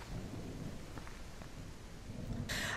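Rain and thunder in the Unreal Engine 5 horror game Baisu, heard through a bodycam with rain striking the visor: a quiet, steady wash of rainfall with low rumbling underneath and a brief brighter hiss near the end.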